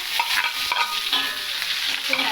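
Onion and whole spices such as cinnamon and dried chilli are stirred in hot oil for a pumpkin stir-fry, a continuous close sizzle broken by scraping stirring sounds.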